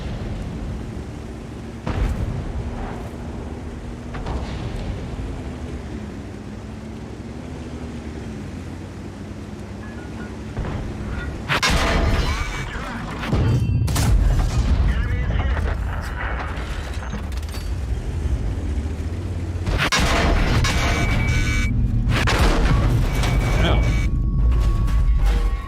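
Artillery rounds exploding in a tank video game, several heavy booms and crashing blasts rolling out in bursts over a mechanical engine rumble, loud and close.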